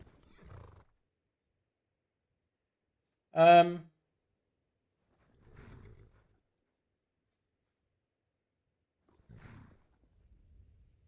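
A horse neighs once in Skyrim, a loud, brief whinny with rising and falling pitch, alone against near silence, with a few faint, low thuds before and after.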